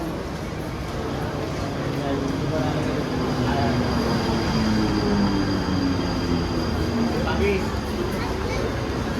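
Train at a railway station in Sea Woods, a steady loud rumble with faint rising and falling tones, continuous throughout, with crowd chatter mixed in.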